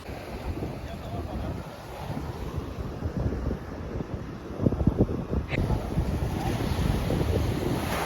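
Strong sea waves surging at a rocky beach cove under gray, clouding skies, a steady broadband wash with heavier crashes midway, mixed with gusty wind rumble on the microphone and no talk.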